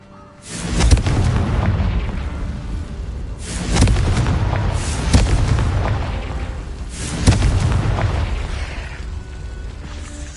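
Three booming fire-spell explosions from Confringo in Hogwarts Legacy, each a loud burst with a rumbling tail that fades before the next, spaced a few seconds apart.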